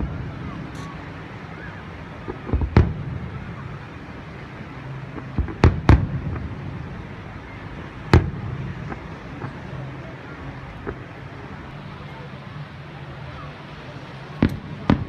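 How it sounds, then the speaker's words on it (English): Fourth of July fireworks show, sharp booming bursts spaced irregularly every few seconds, some loud and close, others softer, over a low rumbling background with occasional crowd voices. "Now this is what a fireworks show should look like."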